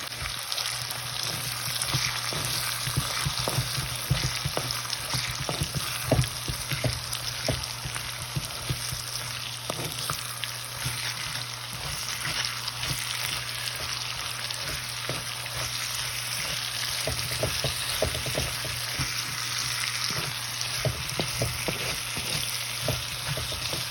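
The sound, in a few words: sautéing garlic, green chilli and beetroot in a pan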